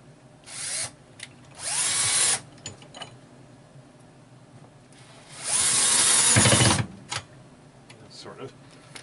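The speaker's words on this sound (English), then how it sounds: "anybody can see screws getting put in" A power screwdriver drives screws into an Atari Football arcade cabinet under restoration: two short whirring bursts, then a longer high-pitched run ending in a low grinding stall, close and loud, with soft talk and handling noises between.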